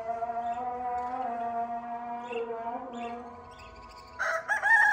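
A rooster crows close by in a long, drawn-out call, with a brief squawk near the end.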